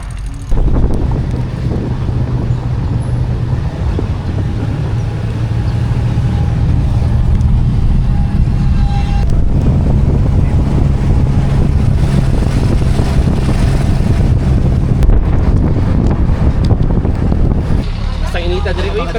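Strong wind buffets the microphone outdoors on Siargao, a loud continuous low rumbling roar that dominates throughout, with a voice speaking faintly beneath it.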